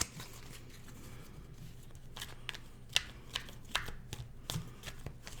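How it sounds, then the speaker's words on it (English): Quiet, irregular snaps and riffles of playing cards being shuffled close by, over a faint background hum. "of course I'm having a hard time shuffling here"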